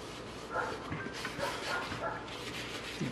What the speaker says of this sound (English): Dogs want to bark right when I'm making the video.